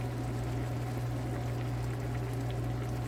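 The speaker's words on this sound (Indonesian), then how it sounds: "Terus biarin dia sampai mendidih masak." Steady bubbling and hissing of chicken-stock-seasoned liquid boiling in a cooking pot, continuous and even with a low constant hum underneath, no voices.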